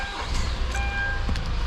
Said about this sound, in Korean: 엔진 소리는 정말 좋습니다.